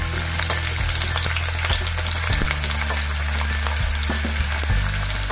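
Sliced onion frying with mustard seeds in two spoons of hot oil for a dal dish, a steady dense sizzle throughout with occasional stirring scrapes and a low hum underneath, close and loud with no talking.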